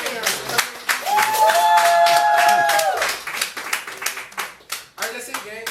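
Audience at a poetry reading in a living-room venue claps loudly and rapidly, with a whoop or whistle rising over the hands midway, then the clapping thins out under scattered voices.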